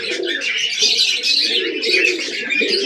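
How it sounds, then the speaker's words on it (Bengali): Free-roaming pigeons coo in overlapping soft, throaty murmurs, several birds close together in a continuous steady chorus with light chirps mixed in and no voices. "এই কটা এখন সব ছাড়া পায়রা"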